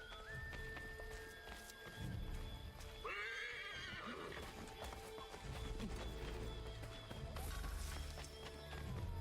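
Horse neighs and whinnies with clip-clopping hooves come from a video game, a sharp whinny standing out near the middle over steady game ambience and trotting.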